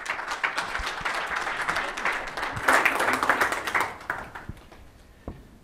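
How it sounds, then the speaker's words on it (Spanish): Small audience at a web-course seminar applauding a speaker, a dense patter of many hands swelling mid-way, then thinning to a few scattered claps. "por favor, demos un gran aplauso a Omar López, por favor."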